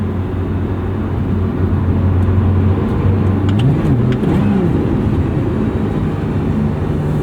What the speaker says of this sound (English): even that double clutch into second gear, super smooth and easy